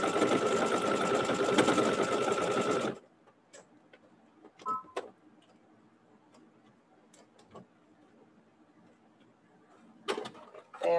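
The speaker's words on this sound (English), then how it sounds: "Before I get to the pin, I stop with my needle down in the seam and then take the pin out." A sewing machine stitches a fabric seam with a loud, fast mechanical whir. It stops abruptly with the needle down, and a few faint clicks and handling noises follow in near silence.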